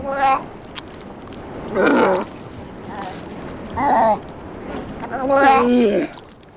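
A Galapagos sea lion calls in loud, drawn-out bellowing bursts that come with each breath. Four separate calls repeat at roughly two-second intervals, close and prominent, the last one longer and wavering.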